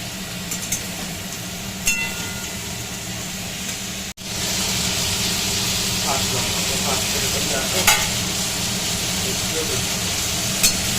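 Green chilies fry in a pan with a steady, close sizzle that continues throughout, punctuated by occasional stirring scrapes, while a voice speaks briefly in the background.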